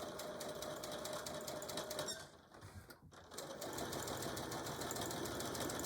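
Sewing machine running a seam with back stitches on a tool carry bag, a steady fast mechanical chatter close by, briefly slowing and pausing midway before resuming at full speed.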